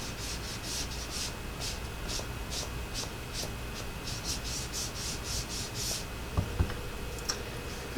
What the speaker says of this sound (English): rub that excess ink off right there